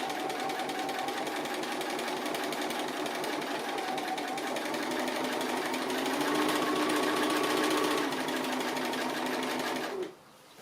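Sewing machine running steadily through free-motion stitching on a small dog appliqué, a continuous close, loud mechanical whir that holds for about ten seconds before stopping abruptly.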